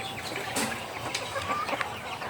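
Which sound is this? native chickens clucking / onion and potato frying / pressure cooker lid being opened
native chickens clucking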